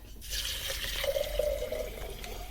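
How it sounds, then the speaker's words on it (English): Filtered water pours steadily into a jar for soaking mung beans, a soft continuous splashing stream that starts after a brief pause and runs close by without talk. "Fill the jar, half full of filtered water because these things are soaking up the water"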